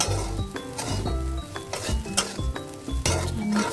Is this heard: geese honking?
no